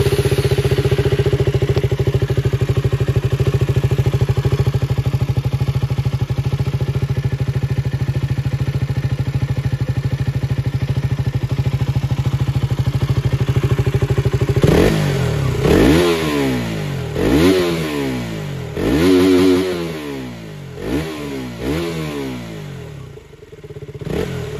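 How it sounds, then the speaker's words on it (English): An older 2018 KTM Duke 200 single-cylinder motorcycle idles with a steady, loud engine note for about fifteen seconds, then revs in a series of sharp throttle blips that climb and fall, close up with no talking. "So let's hear the motorcycle."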